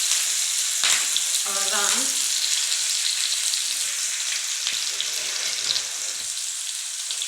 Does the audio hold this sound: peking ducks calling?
no